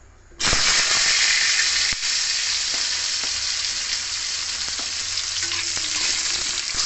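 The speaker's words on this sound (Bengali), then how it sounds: "এরপর ওই তেলের মধ্যে আমি দিয়ে দিলাম পেঁপে," Papaya pieces drop into hot oil for a vegetarian jackfruit-seed mixed-vegetable curry, bursting into a loud, dense sizzle that holds steadily up close while a utensil occasionally stirs and scrapes the pan.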